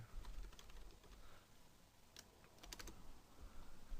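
Someone types quickly on a computer keyboard close by, with soft clustered key clicks and short pauses between bursts, very quiet and without speech.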